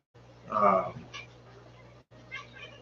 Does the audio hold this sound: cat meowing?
yes